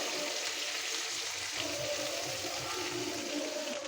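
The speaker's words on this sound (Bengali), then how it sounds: "মাংসটা আমি একদম লাল লাল করে ভাইজা নিচ্ছি" Broiler chicken pieces fry in hot oil with a steady, close crackling sizzle that holds at an even level from start to finish, with no talking.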